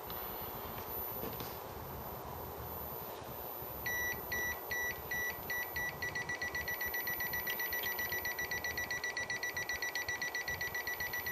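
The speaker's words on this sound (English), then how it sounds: "it's beeping when it senses the AC voltage, but as it gets closer to the source it beeps faster and faster" A UNI-T 210E multimeter in non-contact AC voltage mode starts beeping after a few seconds of hum, short high electronic beeps that grow steadily faster into a rapid, near-continuous pulse, close and loud.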